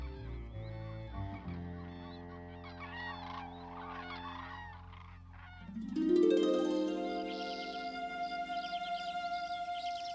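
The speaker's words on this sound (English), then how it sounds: "emitting short and continuous sounds like those made by the cranes" Cranes giving short, continuous honking calls, layered and overlapping at moderate loudness, growing louder and more insistent after the midpoint.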